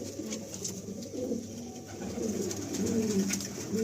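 Breeding male pigeons, among them a Giribaz, coo continuously inside a large loft, overlapping throaty rolling calls from several birds against a steady background hum.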